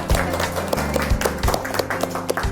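A burst of audience applause at a book talk in a bookshop, many hands clapping together in a dense, steady patter that holds for a couple of seconds.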